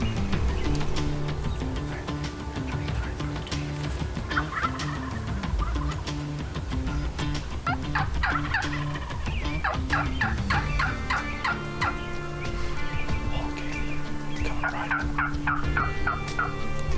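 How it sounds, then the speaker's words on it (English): Wild turkeys gobble outdoors during a spring hunt, repeated loud rattling gobbles in bursts, some close and some farther off, continuing through the whole stretch without speech. "I've heard two different birds gobble."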